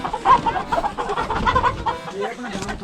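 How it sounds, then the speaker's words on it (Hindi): Chickens cluck in a Himalayan village, with a busy, close run of clucks and fowl chatter. People speak quietly over the birds. "हमें मिली मुर्गियाँ।"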